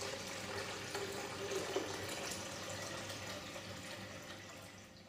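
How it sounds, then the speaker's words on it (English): Water pours steadily into the water tank of a De'Longhi Icona espresso machine, a continuous close splashing rush that holds level and then eases slightly at the end, with no talking. "Alternatively, you can fill the water tank from a stationary position."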